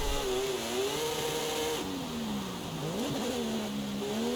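A car in Forza Horizon 5 slides sideways on the No Hesi map, the engine holding a steady drone whose pitch dips and climbs with throttle and revs.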